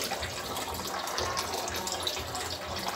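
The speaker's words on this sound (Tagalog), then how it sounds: "Ilagyan ko siya ng tubig." Water pours into a cooking pot for a simple breakfast, a steady splashing gush running throughout, close and continuous with no talking over it.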